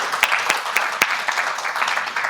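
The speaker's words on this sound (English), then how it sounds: "Please give him a round of applause." Audience applause at a community education event, a short burst of dense clapping from a moderate-sized crowd with a few sharp individual claps standing out.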